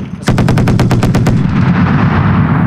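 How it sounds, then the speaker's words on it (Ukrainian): Mounted machine gun firing during military training, a loud close burst of about a dozen rapid shots followed by a lingering rumbling echo. "Працює станковий кулемет."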